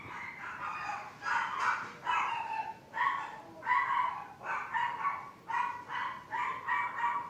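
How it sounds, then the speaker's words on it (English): A dog barks in a series of about a dozen sharp, fairly loud yips and barks, irregularly spaced with short pauses, heard alone with no speech. "where you hear a dog barking"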